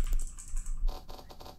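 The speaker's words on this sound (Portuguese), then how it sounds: "o som do teclado" Keyboard typing sound effects from an Elden Ring themed browser mod: a rapid run of clicky keystrokes, dense and close, over a low background hum and music.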